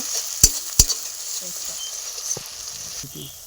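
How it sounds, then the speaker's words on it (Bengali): Ginger-garlic paste and spice masala sautéing for a country chicken curry, a steady close sizzle broken by a couple of sharp spoon knocks against the pan and softer stirring scrapes. "আদা রসুন বাটা দিয়ে একসঙ্গে মশলাটা কষে নেব।"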